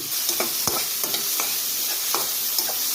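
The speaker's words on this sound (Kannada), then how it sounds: "2 ಸ್ವಲ್ಪ ಫ್ರೈ ಆದಮೇಲೆ 3ನೇದು ಈರುಳ್ಳಿ ಹಾಕ್ಕೊಂಡಿದ್ದೀನಿ." Onions frying and being stirred in a pan for a North Indian fish curry, a steady sizzle with repeated scraping strokes of the spoon through the pan, close and alone with no talk.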